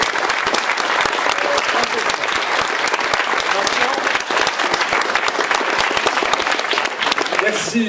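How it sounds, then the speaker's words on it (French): Dense, sustained applause from an audience at a literary prize award ceremony, steady and loud from start to finish with no pauses. "Merci pour ces applaudissements"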